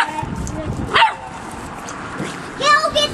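A Doberman barks and yips a few times in short bursts, close by, while people talk over it indoors.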